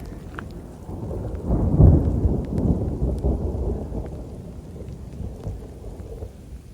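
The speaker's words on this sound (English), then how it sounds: "I did just hear thunder." Low rumbling thunder rolls and swells, then fades, with steady rain pattering throughout and scattered drops tapping nearby, while camping in the Dolomites near Cortina d'Ampezzo.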